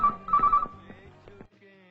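A telephone rings with a short electronic ringtone, a bright repeated tone burst followed by a few softer pulses before cutting off, heard close and alone.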